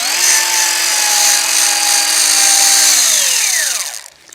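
A car-buffing polisher spins a wool pad while a pad-cleaning spur scrapes it, giving a loud, steady high whine over a rough scraping hiss that winds down in pitch and fades out near the end.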